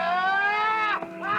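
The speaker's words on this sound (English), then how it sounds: "That's a goat." A goat in a movie bleats once in a single drawn-out, wavering cry, fairly loud and heard alone without talk.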